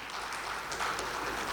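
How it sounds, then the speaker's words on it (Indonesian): An audience applauds at a multi-speaker talk event, producing a dense, even patter of clapping that holds steady for about a second and a half. "Tetap tepuk tangan dulu."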